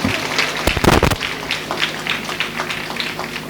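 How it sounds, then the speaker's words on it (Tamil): Loud congregational clapping at a Tamil Catholic church flag-hoisting feast Mass for St. Anthony, with a heavy burst of bangs near the start and then steady dense clapping. "நீங்கள் ஆண்டவரின் இதயத்துக்கு அருகில் இருந்தால் நல்ல சத்தமாக கைத்தட்டுங்க."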